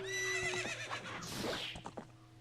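A horse neighs in the video game Zelda: Ocarina of Time, a loud, shrill whinny with a wavering pitch that falls away, followed by a few faint hoof clops.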